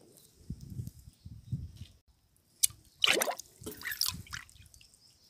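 Liquid plant fertilizer poured at the base of a garden plant, giving soft wet drips, splashes and a short trickle close by.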